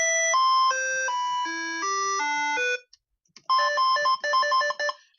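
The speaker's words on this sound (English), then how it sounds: "A square wave, a square wave is very sharp and, in my opinion, very electronic." Square-wave synthesizer tones play a quick run of stepped electronic bleeps, a steady melodic sequence, a brief gap, then a second burst of choppy repeated notes, loud and alone.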